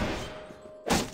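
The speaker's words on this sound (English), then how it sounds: "grenade. Fire in the hole." A video-game grenade goes off as a single loud, sudden blast near the end, breaking through a low background hum and faint rumble.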